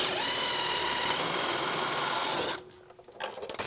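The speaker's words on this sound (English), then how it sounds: "grab a 22 socket on an impact and then grab a smaller wrench like a 16" Impact wrench with a 22 socket backing out a long shock bolt on a 2007-21 Toyota Tundra suspension job, a continuous close buzzing whir for about two and a half seconds, then cutting off into clunks and handling noise.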